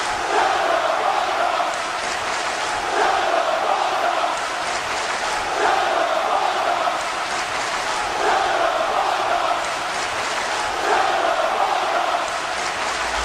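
A wrestling crowd boos at a live show, a steady loud mass of voices that swells and dips in waves for the whole stretch.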